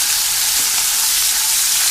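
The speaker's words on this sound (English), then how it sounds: "is there any sweeter sound than the sizzle of bacon?" Steady, dense crackling sizzle of bacon frying in a hot pan, loud and close, with no voices.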